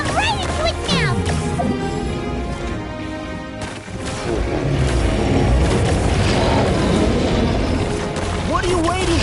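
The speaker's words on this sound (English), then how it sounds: "There's a bomb over there! Just like before! Throw the bomb right into its mouth!" A bomb explosion in the game Genshin Impact during the Summertide Scales and Tales event, a loud booming blast within a dense, continuous wash of game sound, music and character voices.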